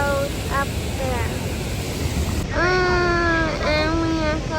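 A constant broadband roar from a nearby waterfall on the river crossing between Chongzuo and Vietnam fills the background. Voices talk over it throughout.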